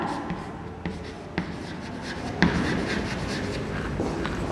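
A pencil or pen scratches steadily across paper as a maths answer is written by hand in a class lesson, a close, continuous rubbing texture broken by a few soft taps.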